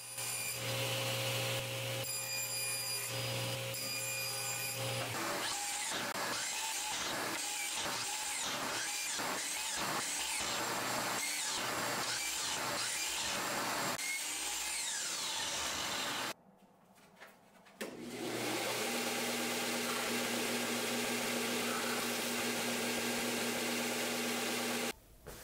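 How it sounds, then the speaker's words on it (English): A disc sander smooths the corners of an acrylic disc: a steady, loud whirring grind that holds for several seconds after earlier bursts of rhythmic cutting, with no talking. "After that, I will use a disc sander to smooth out the corners."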